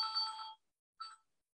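A mobile phone rings in a quiet indoor room, two short electronic trills separated by a brief gap, fairly faint and heard alone.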